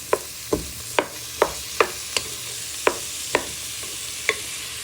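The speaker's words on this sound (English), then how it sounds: "So you're just carefully stirring them in." Chorizo and softened tomatoes are stirred in a pan, heard as nine or ten evenly spaced scraping knocks of a utensil over a faint sizzle, close and alone.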